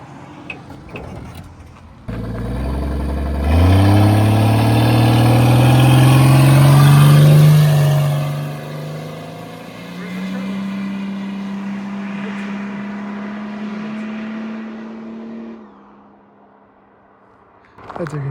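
A Mercedes OM603 turbo diesel car on sticky tires accelerates in a 0-60 run, its engine note climbing loud and close through a long pull, dropping at a shift, then droning steadily before easing off.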